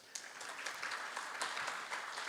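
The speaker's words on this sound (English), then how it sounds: "Ladies and gentlemen, let's clap for Heifer International" A gala dinner audience claps for Heifer International in a steady, fairly faint round of applause that holds evenly throughout.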